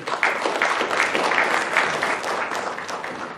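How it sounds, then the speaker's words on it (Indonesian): An audience claps at a corporate governance awards ceremony in Indonesia, steady sustained applause from a large hall crowd that swells and slowly fades. "Kita beri aplaus kepada 11 perusahaan ini"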